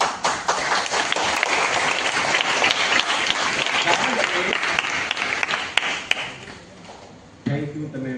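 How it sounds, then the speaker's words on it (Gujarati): An audience at a world peace day seminar in a school claps in sustained, dense applause that thins out toward the end, with a voice coming in briefly at the close. "તમે આટલી બધી તાળી પાડી બદલ"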